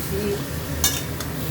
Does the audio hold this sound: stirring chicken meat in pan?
yes